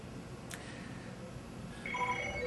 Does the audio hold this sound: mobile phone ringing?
yes